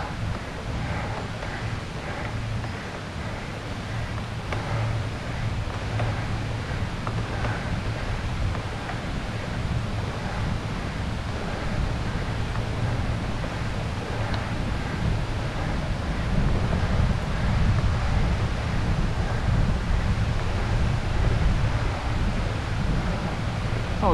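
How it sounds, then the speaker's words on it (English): Steady, heavy wind roars across the microphone throughout a hard bike climb up the east side of Honister Pass from Seatoller, a constant broadband rush with slight surges and no talk. "Oh, the headwind is most welcome."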